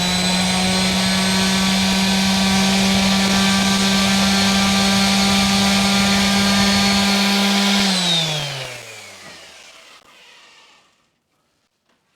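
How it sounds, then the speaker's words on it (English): A power tool grinds flashing off a plastic peg for a vPin controller, a loud steady whine with strong harmonics that holds for about eight seconds, then dips in pitch and spins down to silence. "I'm just gonna grind that off."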